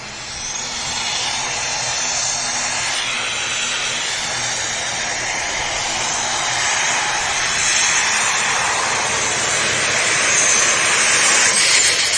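A Superstock diesel pulling tractor makes its run at a tractor pull event, a loud, steady broadband engine roar that builds slightly toward the end, heard at a distance with no talk over it.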